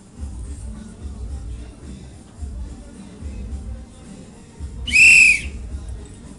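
A short, loud, piercing whistle marks the end of answer time in a junior radiology quiz, sounding once for about half a second after a stretch of quiet room shuffling and low rumble.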